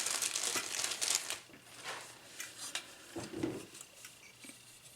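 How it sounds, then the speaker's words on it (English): Close crinkling and rustling of a plastic bag as an item is pulled out, busy crackles at first, then sparser rustles fading lower. "Sorry, all the crinkling."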